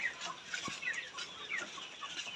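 Chickens in a layer poultry shed holding a batch of about 2,000 to 2,500 birds, soft overlapping clucks and chirps scattered through a faint, continuous background murmur.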